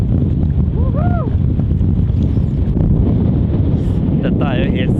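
Steady, strong wind gusts buffet the microphone beside a river in Argentina during fly fishing for trout, a continuous low roar with brief faint voices and a whoop-like sound over it.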